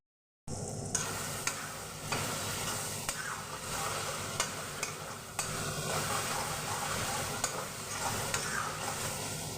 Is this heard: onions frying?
yes